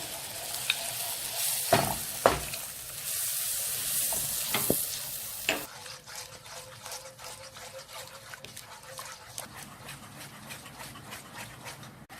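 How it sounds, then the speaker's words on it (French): A spoon stirs flour and milk in a pan for a moussaka béchamel, scraping and soft sizzling with a few sharp knocks early on, then a quieter steady simmer, fairly faint. "On y met la farine et on rajoute le lait tout en remuant."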